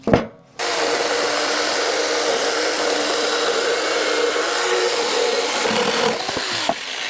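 Saker 6-inch mini electric saw cutting through wood, a brief silence and then a loud continuous buzzing whine with gritty rasping as the blade bites, steady for several seconds.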